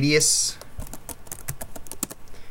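A computer keyboard is typed on while entering a value into a drawing program, a quick run of light, evenly spaced key clicks after a brief louder sound at the start, close to the microphone.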